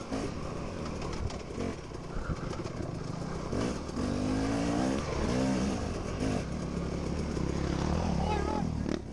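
Beta dirt bike ridden in an AA Class hare scramble at Steelville, Missouri, races past with a loud, rising then falling engine note over a constant motorcycle drone, with speech heard through the noise.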